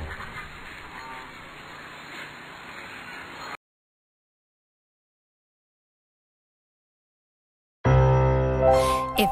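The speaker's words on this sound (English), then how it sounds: "The sad mother duck, quack, quack, quack, quack." Duck quacks in a children's nursery rhyme song, a loud burst of quacking after several seconds of silence, preceded by busy musical background.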